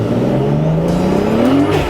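A restored 650 bhp Toyota Supra's engine revs hard and climbs quickly in pitch, loud and close, with a whirring edge from the wheels spinning.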